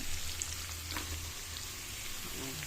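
Coconut palm heart (ubad ng niyog) being stirred in a hot pan, giving a steady close sizzle and frying hiss with faint scraping from the stirring throughout.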